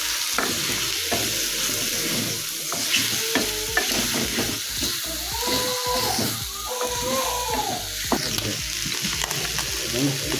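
A spoon stirs garlic and ginger in a sizzling frying pan while cooking octopus, with steady frying crackle and repeated scraping strokes close by, no voices.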